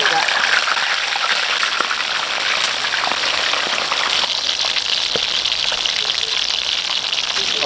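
Catfish (hito) frying in a pan of hot cooking oil, a steady dense crackling sizzle that holds loud and even throughout, with a voice speaking over it.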